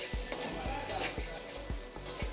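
Grated coconut roasting in a pan for military-hotel-style mutton chops, a soft sizzle with regular scraping strokes of a spatula about every half second, close up.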